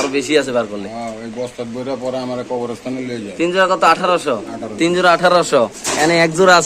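Pakistani Giribaz pigeons at a bird sale coo in soft, repeated bursts, mostly mixed in under close, continuous talk.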